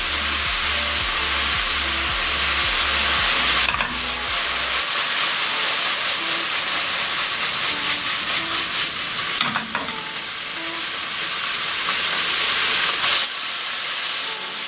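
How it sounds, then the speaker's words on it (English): Lamb browning in a pan for a balti: steady, loud sizzling and hissing of meat frying, with stirring scrapes and occasional clatter throughout. "So my lamb's starting to brown now"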